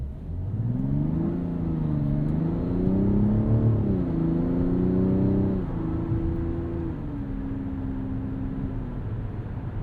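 A 2025 Mazda CX-70 Turbo S with a turbo inline-6 and 8-speed automatic accelerates from inside the cabin, its engine note rising steadily and then dropping as it shifts up through gears, smooth and moderately loud.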